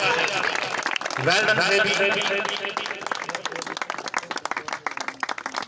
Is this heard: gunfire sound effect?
no